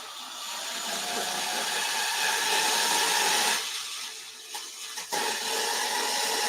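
A bandsaw cuts flat through a cracked wooden bowl blank, a steady loud whining hiss that holds for several seconds, then drops away briefly with a few knocks before the running saw returns.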